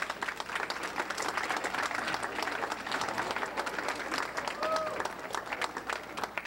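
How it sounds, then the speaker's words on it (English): Audience applause for Titanic survivor Eleanor Shuman at an evening event in Elgin, a steady, dense wash of many hands clapping throughout, with a faint crowd murmur beneath. "let's give Eleanor Shuman a big round of applause"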